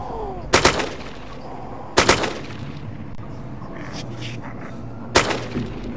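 Three separate bursts of gunfire from a single-shot firearm in the video game DayZ, each a sharp loud crack with a short rattling tail, spaced a couple of seconds apart over quiet background.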